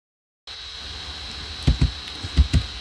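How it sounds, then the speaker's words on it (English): Mouse or button clicks from someone in a horse-riding game, a few separate sharp taps in two small pairs close to the mic over a steady electronic whine. "You can hear me clicking the stop button."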